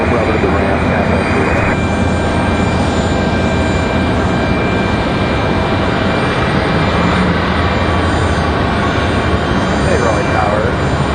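A Southwest Airlines airplane at Raleigh-Durham International Airport fills the scene with a loud, steady engine roar that holds for the whole stretch, with a voice faintly present underneath.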